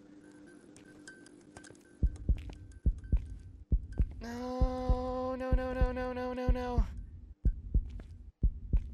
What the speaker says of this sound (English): Why is my heartbeat slowing down?